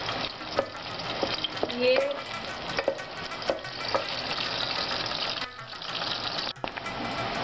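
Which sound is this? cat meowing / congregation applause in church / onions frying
onions frying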